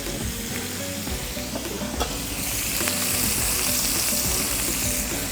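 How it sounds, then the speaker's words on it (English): Prawns searing in a paella pan for Spanish seafood paella, a loud continuous sizzle and crackle with light stirring scrapes that grows denser and brighter partway through. "The next thing I'm going to do is add my prawns just to sear them off"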